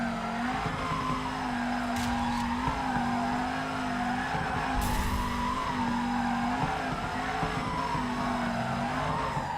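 A car drifts sideways in the FURIDASHI Drift Cyber Sport racing game, its engine droning steadily while the tires squeal and skid continuously, loud and close throughout.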